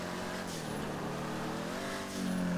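Car engine in Grand Theft Auto V on PC, a steady, loud continuous drone with a low hum that rises in pitch near the end as the car accelerates, with no talk over it.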